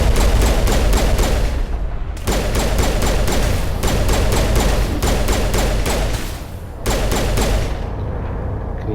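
Rapid pistol fire from the Mass Effect video game comes in loud, dense bursts of closely spaced shots, broken by a few brief pauses and accompanied by heavy low booms.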